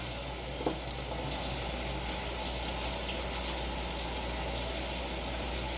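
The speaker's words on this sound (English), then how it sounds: "I'm just going to wash my hands." Water runs steadily from a kitchen tap while hands are washed, a continuous broadband rush with a brief knock near the start and no talking.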